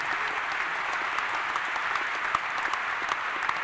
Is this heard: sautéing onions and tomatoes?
no